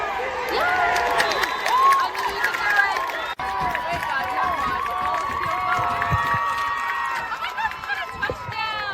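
Crowd at a youth football game cheers and shouts through a busy stretch of play, children's and adults' voices rising in bright overlapping whoops, with a brief dip partway through and spoken voices mixed into the noise.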